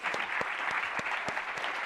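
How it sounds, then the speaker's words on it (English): A conference audience applauds: dense, continuous clapping from a crowd, steady and fairly loud throughout. "join me in a huge round of applause"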